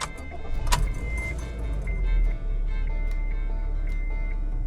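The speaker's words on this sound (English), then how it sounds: "So you'll have to put the key in the ignition and turn it the old-fashioned way." A Honda Brio RS CVT starts with a key turned in the ignition: a brief cranking burst, then the small engine settles into a steady idle, with faint chime-like ticks over it.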